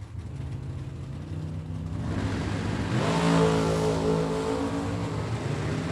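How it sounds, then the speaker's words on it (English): Racing engines of a Monte Carlo and a pickup truck at a drag race roar steadily, swelling louder and climbing in pitch as they rev and accelerate down the track, with no voices over them. "Monte Carlo chasing a pickup truck"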